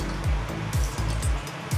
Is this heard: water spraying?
yes